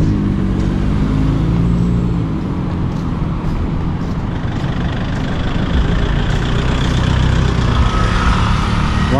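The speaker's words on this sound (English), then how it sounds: "Lots and lots of motorbikes." Motorbikes and traffic on a street at Karon Beach in Phuket, Thailand, a steady nearby engine rumble with idling and passing vehicles throughout.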